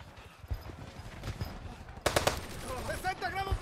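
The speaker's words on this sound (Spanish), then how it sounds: "Además de ametralladoras, ahora también tenían morteros." Machine gun fire in a snowy war film rattles in short, uneven bursts, quieter at first and then louder and denser, with shouted voices rising over the shooting toward the end.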